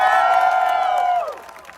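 A crowd at a Navshakti Navratri garba night cheers loudly with sustained whoops, a strong voiced cheer that holds and then drops away near the end.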